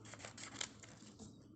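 Scissors cutting printed paper, a quiet, close series of quick snips and crisp slicing strokes in a fairly even rhythm, with no talk.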